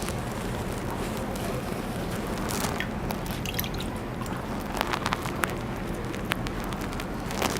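Water splashes steadily as an apple face mask is rinsed off the face, a continuous wash of running and dripping water with scattered sharper splashes and drips throughout.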